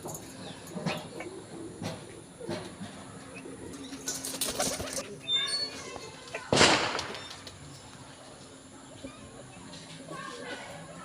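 Bursts of wing flapping as pairs of pedigree pigeons are released and take off, including one loud sudden flurry, with a voice talking intermittently and faint birdsong behind.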